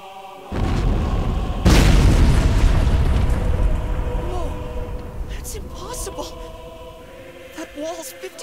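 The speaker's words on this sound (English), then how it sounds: "Some kind of explosion or..." A deep explosion booms loudly in an anime, rumbling on for several seconds before fading into quieter debris sounds and sharp tonal effects, with voices speaking over it.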